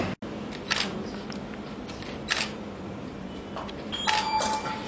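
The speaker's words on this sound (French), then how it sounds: "On va prendre une photo." A camera shutter clicks a few times at an outdoor gathering during a 2015 visit in Guinea, with short bright snaps over steady background crowd noise and a faint electronic tone near the end.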